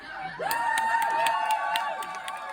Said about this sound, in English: So please give them an extremely loud round of applause.